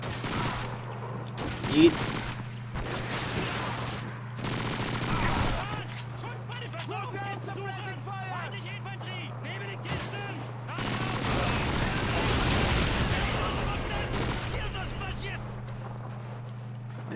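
Bursts of rifle fire and machine-gun rattle from Call of Duty 2 on a Soviet winter training mission, over a constant engine-like drone, with someone talking between volleys.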